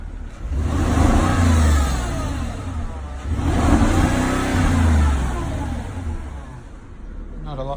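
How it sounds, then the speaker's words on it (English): A Porsche with a turbocharged engine revs twice in rising, falling surges over a steady idle, close and fairly loud, with someone talking over it. "See if I can hear the noise by revving it."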